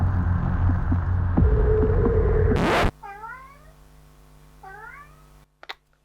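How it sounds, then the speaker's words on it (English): A pet cat meows close to the microphone, several rising, wavering calls in two short bursts over a low steady hum, with a loud noisy stretch of room sound before them. "if you can hear my cat on the microphone, I apologise"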